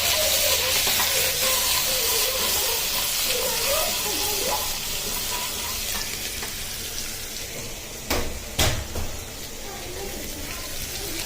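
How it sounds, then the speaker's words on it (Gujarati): Garlic and chili paste with broken chili pieces sizzles in hot oil over a low gas flame for a village-style paneer and tuver lilva curry, a steady close hiss under a talking voice, with a couple of sharp utensil clacks near the end. "લસણ અને મરચાંની પેસ્ટ છે એ નાખી દો"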